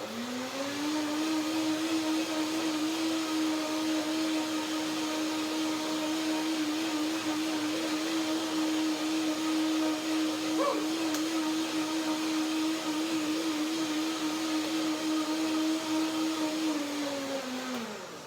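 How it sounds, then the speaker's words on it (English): Steady motor whine of a blender mixing mayonnaise dressing for corn and cauliflower rice, running continuously and loud for about eighteen seconds with a constant pitch and a slight wobble near the end. "One more blender dance."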